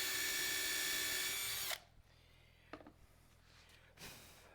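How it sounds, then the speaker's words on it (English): A power drill whirs loudly and steadily during shooting-board woodworking, then cuts off abruptly, followed by quiet workshop handling noises and a short rustle near the end. "nice having all these drills."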